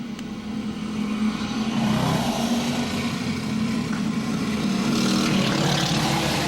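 Several go-karts drone and whine around a backyard dirt track during a close race, their engines blending into a continuous, moderately distant buzz that swells and fades as they pass.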